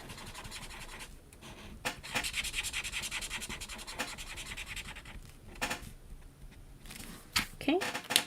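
A stamped Whimsy Stamps image on paper for a St. Patrick's Day card is being colored in by hand, giving close, scratchy rubbing strokes in bursts separated by brief pauses.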